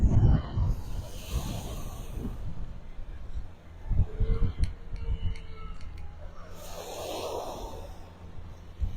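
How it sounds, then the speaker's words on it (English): Gusty wind buffeting across a beach in North Naples, Florida on a breezy morning, loud rumbling bursts close to the mic that rise and fall, with faint sounds of work on a nearby boardwalk. "Ooh, that wind gets fierce every once in a while."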